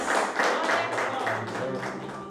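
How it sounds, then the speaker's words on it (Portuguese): Congregation applauding during a church service, a steady wash of many hands clapping at moderate loudness with faint voices mixed in. "Aplauda o Senhor Jesus Cristo"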